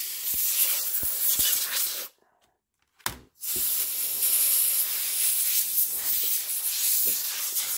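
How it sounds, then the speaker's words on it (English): Loud bursts of compressed air hiss continuously while blowing debris out of a Lenovo ThinkPad T570 laptop, broken by a short pause and a quick puff before the long spraying resumes. "Go ahead and spray out some of this junk."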